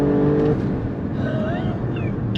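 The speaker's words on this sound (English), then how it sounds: "I love driving this freaking Stelvio Quadrifoglio" A 2022 Alfa Romeo Stelvio Quadrifoglio SUV being driven, its engine holding a steady, fairly loud drone from inside the cabin with a faint tire and road rumble. The driver's voice is audible early on.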